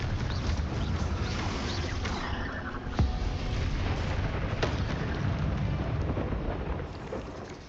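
Confringo fire spell explosions in the video game Hogwarts Legacy rumble as dense, continuous booming blasts, loud and close, with a few sharp cracks layered through a heavy roar.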